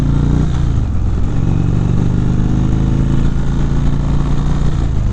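A 2019 Indian Chieftain motorcycle engine at higher riding speed, its steady loud drone and low throb continuous throughout, close and unbroken, with no talking over it.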